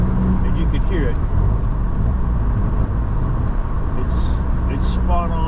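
A Mazda MX-5 engine revs during rev-matched downshifts on a spirited scenic road drive, with short rising and falling engine sweeps over continuous road and cabin noise, and a voice partly mixed in.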